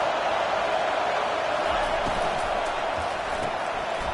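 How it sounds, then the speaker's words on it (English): A big football stadium crowd cheering at Michigan versus Texas, a steady, loud roar of many voices filling the space from a distance with no letup. "this crowd is fired up. Listen to this noise here"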